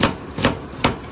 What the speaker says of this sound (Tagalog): Yan naghiwa pud si Moto og sibuyas bombay guys.